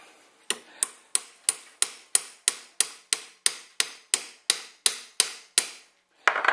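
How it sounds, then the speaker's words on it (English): Steady hammer blows on an AR-15 rifle part, about fifteen sharp metallic strikes in an even rhythm, close up and loud, followed by a brief rustle at the end. "Maybe I will get the assistance of the old hammer."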